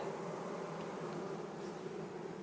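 A honeybee swarm taken from a wall drones in a continuous, dense buzz, close by and steady throughout.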